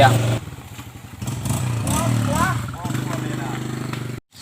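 A motorcycle engine revs in an action film scene, a loud, close, buzzing drone that rises and falls in bursts before cutting off abruptly, with voices over it.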